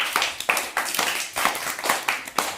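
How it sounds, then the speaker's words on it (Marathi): A classroom of children claps together for a classmate, a loud, close run of rhythmic group claps in bursts roughly every half second, with no talking. "जोरात ऋतुजासाठी सगळ्यांनी टाळ्या वाजवायच्या."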